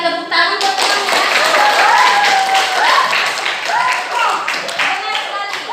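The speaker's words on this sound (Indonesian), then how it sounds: "tepuk tangan buat teman ya." Students in a classroom clap for a classmate, giving a brisk, fairly loud scatter of hand claps throughout, while a voice talks over the applause.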